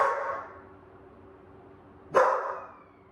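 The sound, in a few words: dog barking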